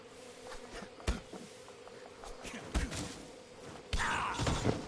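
Bees swarm in Metal Gear Delta with a steady buzz broken by sharp thuds and a louder burst near the end, with a faint voice underneath.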